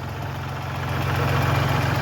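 A Kubota L3901 38-horsepower tractor diesel idles steadily nearby, a low, even rumble with a faint rhythmic knock that swells slightly toward the end, with no voices over it.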